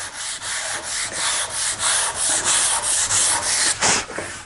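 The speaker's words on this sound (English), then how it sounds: "So the last step in this is to use the 150 grit." Back-and-forth rubbing of 150 grit sandpaper over wood patched with Bondo filler, a steady rhythmic scratching of repeated strokes, close and fairly loud, with no talking.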